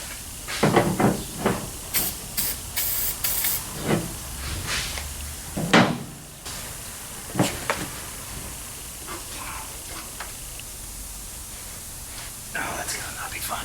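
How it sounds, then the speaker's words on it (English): Penetrating oil sprays onto the brake booster nuts of a Pontiac in a series of short, close, sharp hissing bursts from an aerosol can, separated by quiet gaps. "These nuts, I am going to penetrating oil these guys"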